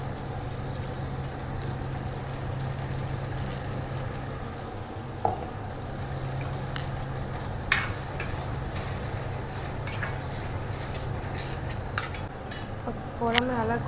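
Ground masala stirred into brinjal frying in oil for kathirikai kara kuzhambu: a steady soft sizzle with scraping stirs and a few sharp clinks of a spoon against the pan.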